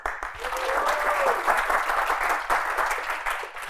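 An audience applauds at a talk on effective communication, steady clapping across the room with a faint voice or tone briefly rising above it early on.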